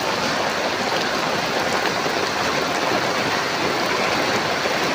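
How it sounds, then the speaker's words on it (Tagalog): Rain falls steadily at night, a dense, unbroken hiss and patter holding at an even, loud level throughout with no voices. "Ulan, guys."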